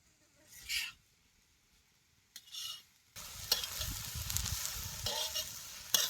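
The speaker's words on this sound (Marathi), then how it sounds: "आधी मटकी जरा तव्यात अशी चढ चढ चढ चांगली भाजून घ्यायची" Sprouted moth beans (matki) dry-roast in a pan on a wood-fired stove, with a couple of brief scraping stirs followed by continuous sizzling and stirring scrapes that grow louder and denser.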